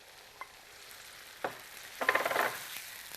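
Marinated chicken cooks in a little oil in a pan for a Chinese-style dish, a soft low sizzle punctuated by a few brief stirring clatters and a louder crackling burst midway, with no voices.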